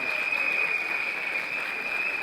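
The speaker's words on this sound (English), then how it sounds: "I want a big round of applause for Shri Ram Wonder Years." Audience applause for Shri Ram Wonder Years at a school annual day celebration: a steady wash of many hands clapping throughout, with a thin electronic whine running through it.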